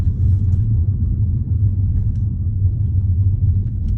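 BMW 2 Series Gran Tourer 216i Pack M Sport F46 LCI cruising on a road, a loud, steady low-pitched cabin rumble of engine and tyres that holds constant throughout, with no speech.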